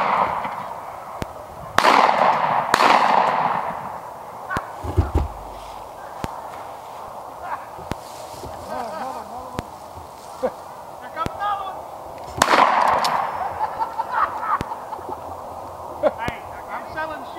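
Outdoor rabbit hunt with several sharp gunshot pops scattered at irregular intervals, a louder cluster early and another later, mixed with voices talking and rustling movement.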